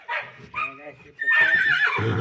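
A young mare, about ten months old, whinnies close by in a short, shrill, wavering call, with a lower snort or rumble near the end.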